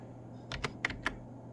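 A handful of computer keyboard keystrokes, four or five quick close clicks in a short burst over a low steady hum, with no other sound.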